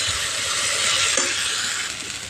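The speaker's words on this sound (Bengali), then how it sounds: "আদা রসুনটা দিয়ে ভালো করে একটু ভেজে নেব" Ginger-garlic paste frying with onions in a pan for a pointed gourd curry, a dense, steady sizzling hiss held close and loud throughout with no voices.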